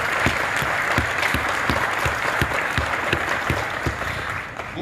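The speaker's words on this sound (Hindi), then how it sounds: "उन सब के लिए जोरदार तालियां" A crowd at a business meet claps together in loud, continuous applause, with rhythmic, evenly spaced louder beats running beneath the broad wash of hands.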